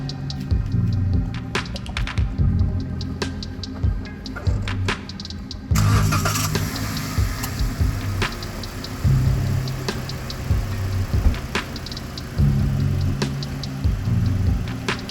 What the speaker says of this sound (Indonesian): Nah, ini kita coba hidupkan mesinnya.